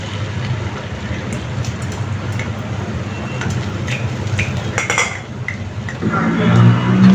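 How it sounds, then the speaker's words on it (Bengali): An egg fries in a pan during home cooking, giving a continuous broadband sizzle with small clinks, then a lower rumble swelling near the end. "তো ডিমটা দিয়ে দিচ্ছি।"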